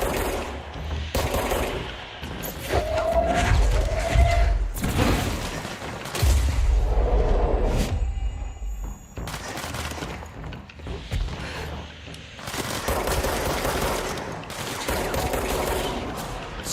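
Sustained gunfire in the game Control, with automatic bursts and heavy booming shots rattling almost continuously at close range, punctuated by brief lulls.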